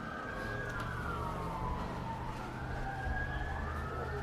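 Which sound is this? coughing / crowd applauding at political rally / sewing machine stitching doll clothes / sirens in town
sirens in town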